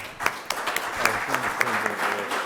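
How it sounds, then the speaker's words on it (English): Audience applause at a medical education showcase, a steady wash of many hands clapping at moderate level, with a few sharper individual claps standing out and some faint voices mixed underneath. "Let's have one more round of applause for Dr."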